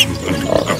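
A pig oinks once in a short, rough grunt, close and fairly loud, with no talk over it.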